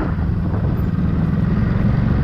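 A Ducati Supersport S motorcycle engine at the Haras Tuiuti circuit gives a steady, loud, low rumble that holds at an even level throughout.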